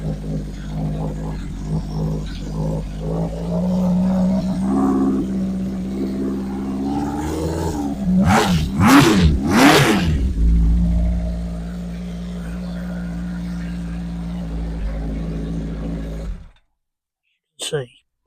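Fifty-year-old Honda CB550 four-cylinder motorcycle, off the road for ten years, starting up and idling with a steady low engine rumble, two sharp revs in the middle, then idling again before cutting off, with talk over much of it.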